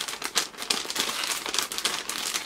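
Scissors cut into plastic packaging, giving a run of close, crinkly crackles and rustles with small snips, a rapid uneven texture that stays fairly quiet throughout.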